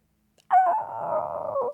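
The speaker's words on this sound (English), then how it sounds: "And then a dog barks?" A dog gives one drawn-out, hoarse bark that stretches into a short howl, close and fairly loud, after a moment of silence.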